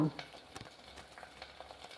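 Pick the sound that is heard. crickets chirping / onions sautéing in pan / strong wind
onions sautéing in pan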